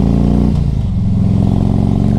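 A 2003 Harley-Davidson Electra Glide Classic motorcycle engine rumbles loudly at close range with a deep, steady V-twin throb, dipping briefly and then settling back into its even, pulsing idle.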